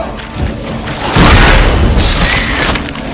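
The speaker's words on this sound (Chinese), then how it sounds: "爆炸！" A loud, close explosion in The Witcher 3: Blood and Wine erupts as a deep boom with a crashing rumble that swells and then holds for a couple of seconds.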